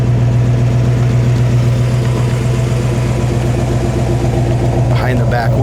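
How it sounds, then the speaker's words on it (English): A 1965 Ford Mustang idling through dual exhaust tailpipes, a steady, close, loud low rumble with an even pulsing beat that holds unchanged throughout. "Dual exhaust sounds nice coming out the tailpipes."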